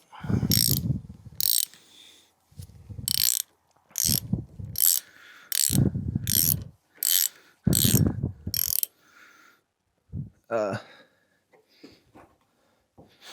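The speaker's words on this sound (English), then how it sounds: "All I have to do now is screw the cap on and reassemble it." Rhythmic ratcheting clicks sound while the fork cap is screwed back on during fork seal replacement on a Dr650 motorcycle. About ten loud, close bursts are separated by short pauses, followed by a few lighter metallic ticks.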